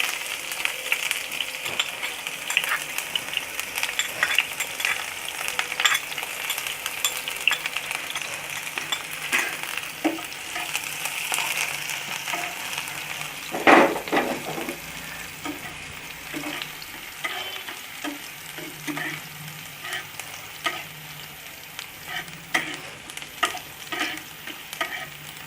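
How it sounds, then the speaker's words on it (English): Onions fry in hot oil for an Indian-style fish egg dish, a continuous sizzle with frequent spatula scrapes and one louder clatter midway, no voices. "Our oil is heated up. Then give the onions,"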